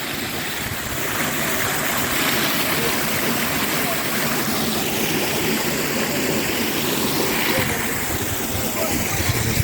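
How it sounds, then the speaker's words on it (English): A small mountain waterfall and stream on a Scottish hillwalk near Culardoch pour steadily in a dense, continuous rush of water, close and loud throughout. "Show you this mini waterfall."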